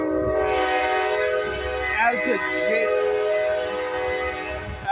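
A train sounds a long, loud multi-tone horn at a crossing with blinking red lights, held steadily throughout, while a person speaks briefly over it.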